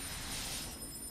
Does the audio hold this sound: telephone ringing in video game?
yes